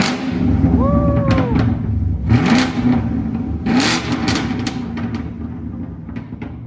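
A 2021 Chevrolet Camaro LT1 V8 with no muffler revs up sharply several times in quick bursts, loud and raspy, each rise falling back to a throaty idle between them.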